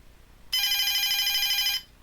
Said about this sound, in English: it makes a ringing noise, doesn't it?